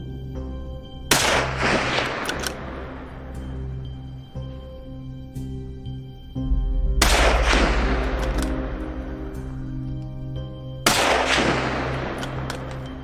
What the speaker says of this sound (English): Then a gunshot shattered the silence. Rapid shots followed